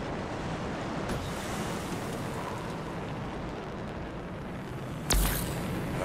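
Waterfalls flowing backwards in the video game Anthem, heard as a steady, full roar of rushing water like heavy surf. It stays constant throughout, and a sharp burst near the end briefly rises above it.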